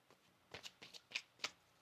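Tarot cards riffled and shuffled in a quiet room, several short papery bursts that build toward two sharper snaps near the end, fairly close and soft.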